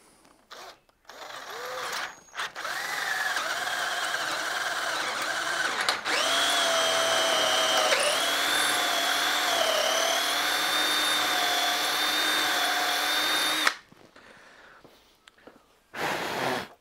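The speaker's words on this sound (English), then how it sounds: "So I'll just see if I can go up another drill bit." A power drill with a larger bit bores into a stubborn bolt, whining loudly and steadily in long bursts that shift slightly in pitch, separated by short pauses of near silence.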